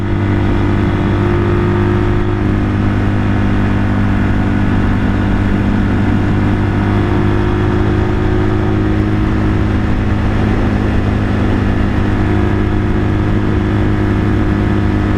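A rebuilt 1978 Kawasaki KL 250 motorcycle cruising at around 55 to 60 mph, its engine holding a loud, steady buzzing drone up close with wind roar, continuous and unbroken.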